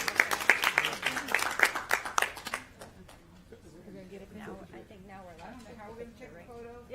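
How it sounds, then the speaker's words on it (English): Board members at a school board meeting clap briefly, a burst of close, sharp handclaps that fades after a couple of seconds, followed by someone talking. "Board members, clap."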